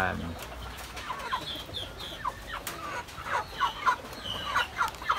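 Chickens clucking in a breeding pen made from recycled materials, a cluster of nearby birds giving repeated short clucks and chirpy calls in an uneven rhythm over light background noise.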